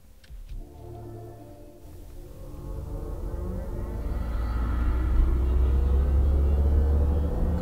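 Mercedes-Benz EQS electric car with its Vivid Flux synthetic driving sound, a low futuristic spaceship-like hum that swells steadily as the car accelerates, over a deep road rumble, with no talking.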